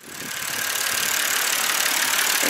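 A BMW E60 528i engine idles after home repairs on engine and transmission warning faults, a steady close mechanical hum with even broadband noise and no speech.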